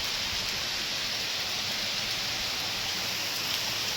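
Heavy rain falls steadily and densely outdoors, a continuous broadband hiss with no breaks and no voices, close and fairly loud throughout.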